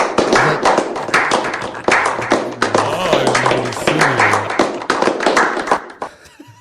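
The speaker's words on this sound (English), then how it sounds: "No, that's a slow clap." A few slow, deliberate hand claps ring out close by at a steady, unhurried pace, with people chatting and talking over them.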